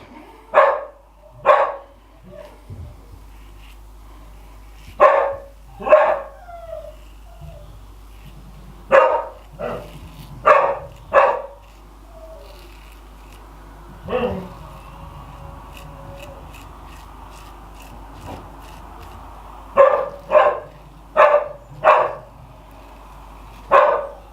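Several dogs bark in quick pairs and clusters, loud and close, with pauses between bursts and faint background noise.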